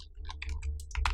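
Computer keyboard typing during editing work in Adobe After Effects, a quick irregular run of close, crisp key clicks over a steady low hum, with no talk.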